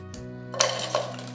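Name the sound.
jaggery being put into a cooking pot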